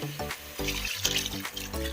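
Water poured into a pan of crab masala gravy while cooking: a close, continuous splashing pour with a rising gurgle, lasting about two seconds.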